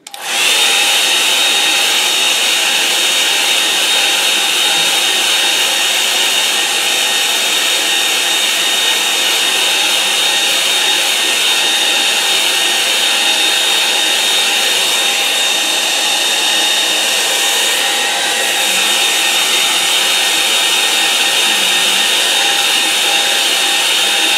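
A hair dryer blows a loud, constant whirring roar to dry wet paint on a painting, holding steady and close for the whole stretch with no talking.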